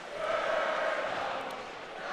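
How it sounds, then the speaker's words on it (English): A rowdy student section chants in unison at an Arizona State college ice hockey game, a loud, sustained roar of massed voices filling the arena. "The crowd chanting here early, as it's just been all Arizona State"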